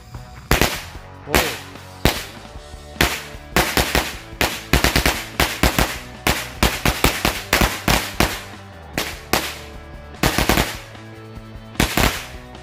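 Rapid strings of sharp, loud bangs crackle in bursts, separated by brief pauses, like a chain of small homemade matchstick firecrackers popping close by.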